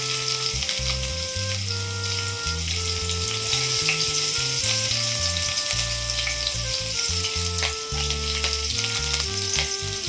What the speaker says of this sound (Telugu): ఇప్పుడు మనము ముందుగా పచ్చిమిర్చి సన్నగా కట్ చేసుకున్న పచ్చిమిర్చి వేద్దాం.